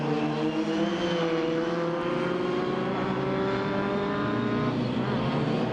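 A 750 Formula race car rounds the hairpin at Donington Park, its engine note a continuous loud drone with rising and falling harmonics as it brakes and accelerates through the corner, close and alone.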